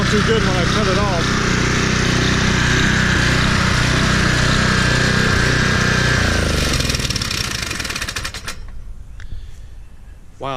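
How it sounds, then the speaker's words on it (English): A 2010 Toro Recycler Personal Pace 20333 push mower engine races loudly at high, steady revs close by, with a harsh mechanical rattle, then cuts off abruptly near the end, leaving a brief quiet tick. "Yeah, this engine's over revving."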